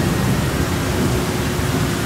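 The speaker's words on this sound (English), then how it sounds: "there was a terrible storm one night." A thunderstorm with rain makes a dense, steady hiss with a low rumbling undertone, loud and continuous throughout the short stretch.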